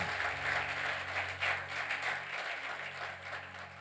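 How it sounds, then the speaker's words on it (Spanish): Church congregation applauding during a Spanish-language sermon, a faint, steady patter of clapping from a crowd that carries on for a few seconds without any talk. "Aplaude si va a aplaudir."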